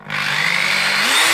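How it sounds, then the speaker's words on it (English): A Makita HR2811FT rotary hammer drill running in drilling mode, spinning up fast within a split second into a steady, loud, high whine that holds for over a second, close and with no talking. "the drilling mode is working"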